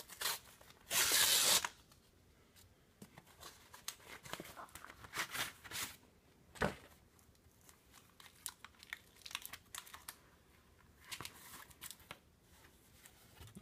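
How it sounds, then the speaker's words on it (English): Priority mail envelopes being torn open, with a loud ripping burst near the start followed by ongoing crinkling, rustling and short tearing sounds of the packaging, close up with no talking. "We'll open these priority mail envelopes up first."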